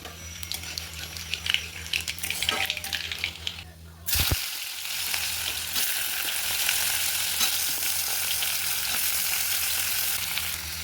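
Nigella seeds hit hot oil with a sudden loud sizzle that settles into a steady, close frying hiss, after a stretch of quieter kitchen handling noise.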